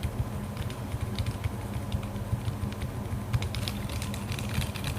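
Rapid, irregular clicking of keys being typed on a TADA68 mechanical keyboard, soft and continuous over a low background hum.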